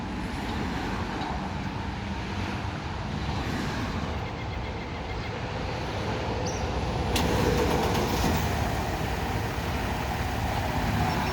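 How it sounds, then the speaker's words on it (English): A 2011 Mercedes-Benz GL350 idles steadily after a remote start, a low continuous engine rumble heard from nearby with a slight rise partway through and no talking. "Vehicle will start up, run for about 15 minutes, and then turn itself off"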